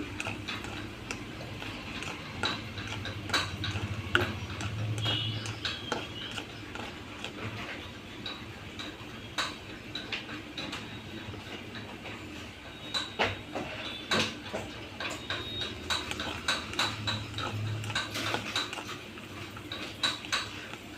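Peanuts roasting in a pan while a snack mix is prepared, giving a steady run of light ticking, rattling clicks as the nuts are stirred and shifted against the metal. The clicking is close and continuous over a low background hum.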